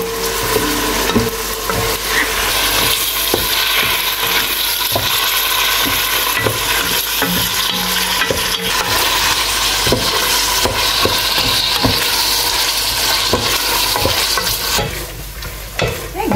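Chicken sizzles loudly in a pan while being stirred, a dense continuous frying hiss with repeated scraping and knocking of the utensil against the pan, close up and steady throughout.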